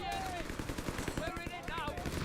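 Rapid rifle fire from a Jaeger squad in Company of Heroes 3 crackles as a steady run of sharp reports, with a speaking voice running over the shots throughout.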